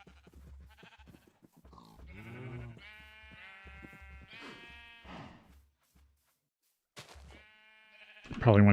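Sheep bleating in the Minecraft modpack GregTech: New Horizons, a few short digital bleats scattered through a quiet game scene, with a louder burst near the end.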